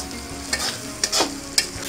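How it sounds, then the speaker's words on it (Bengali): Spice masala for a jackfruit and prawn curry is stir-fried in a pan, giving a steady sizzle broken by three or four sharp scraping strokes of the spatula, close up and with no talk. "এবার আমি এটা 5 মিনিটের মতো ভালোভাবে কষিয়ে নেব।"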